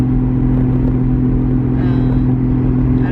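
A petite Toyota car with a 3-cylinder engine drives at night, its engine a steady low drone and hum with road rumble, constant and fairly loud from inside the cabin.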